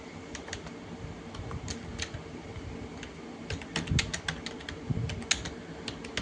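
Rapid, steady typing on a computer keyboard during a database lab exercise, with close, crisp key clicks in irregular bursts over a constant background hiss.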